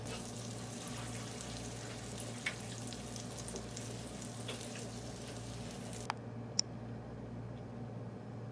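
Pancake batter cooking on a slow flame, a quiet, even low sizzle with an electrical hum beneath and a couple of faint clicks near the end.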